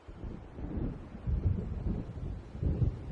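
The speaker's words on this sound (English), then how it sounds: "It seems there's a storm coming." Low rolling thunder from an approaching storm in the Alan Wake video game, deep rumbles swelling and fading in several waves over a windy, muffled background with no voices.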